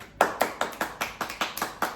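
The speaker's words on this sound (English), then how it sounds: "Round of applause." A round of applause comes as a single pair of hands clapping about nine times. The claps are crisp, close and evenly spaced, each standing alone with no talk between them.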